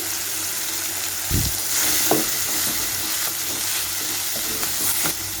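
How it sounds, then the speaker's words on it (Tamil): Half a tomato and salt frying in a hot pan for palak rice give a steady sizzle, broken by a few soft stirring scrapes and clinks, close and alone. "இப்போ இந்த தக்காளி நல்லா நம்மளுக்கு மேஷ் ஆகணும், அது வரைக்கும் ஒரு 2 மினிட்ஸ் நல்லா குக் பண்ணிக்கலாம்"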